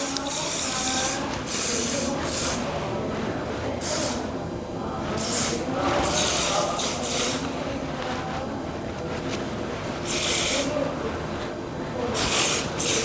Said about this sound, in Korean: 위에서 아래로 흩 뿌려주듯이 뿌려줍니다.